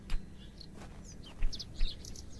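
Small birds in a window box in the video game The Excavation of Hob's Barrow give brief high chirps in a few scattered clusters over a dense, rumbling ambient background.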